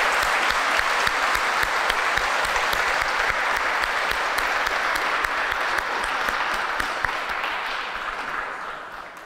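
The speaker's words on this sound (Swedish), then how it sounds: "Jag tycker vi ger dem en stor applåd." A congregation applauds in a cathedral at a Christmas Eve Advent service, a long, even wash of many hands clapping, close and full, tapering gently near the end without speech over it.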